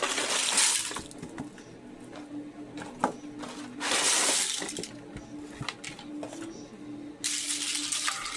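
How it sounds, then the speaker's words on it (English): Boxed dried au gratin potatoes poured into a dish in several bursts of dry, rattling pouring, each lasting about a second, with faint clinks and small knocks in the quieter gaps between. "I'll pour our box of potatoes in."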